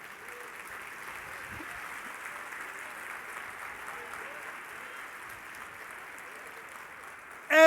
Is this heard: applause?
yes